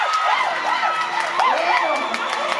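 At the Miss Universe Dominican Republic 2017 pageant final, a large audience cheers and shouts continuously, a dense wall of excited voices.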